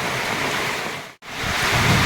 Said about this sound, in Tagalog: At yun, umuulan pa rin.